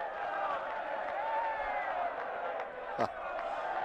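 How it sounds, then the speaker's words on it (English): Spectators at the 2008 San Marino MotoGP in Misano wait for the podium ceremony, their steady crowd roar faint and distant beneath a talking voice. "You can hear the crowd. They are getting ready for the podium ceremony."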